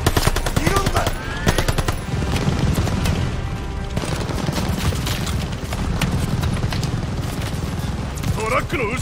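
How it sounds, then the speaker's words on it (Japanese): Sustained machine gun fire in the Call of Duty: Vanguard campaign during the Tonga operation, rapid dense bursts rattling almost nonstop with loud battlefield noise around them. "マシンガンに体をさらすな。"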